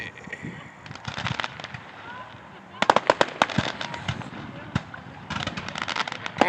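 Fireworks going off at an outdoor firework show, bursts of sharp cracks and pops coming in clusters, some loud and close, with people talking quietly between them.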